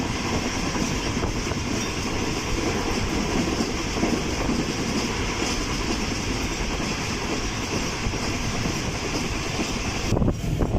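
A train rolls steadily along the rails between Karachi and Hyderabad, a continuous loud rumble with a faint clatter running throughout, no voices.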